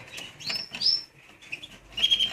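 Maltese canaries chirp and trill in bright, high bursts, several overlapping calls close by, with short pauses between them.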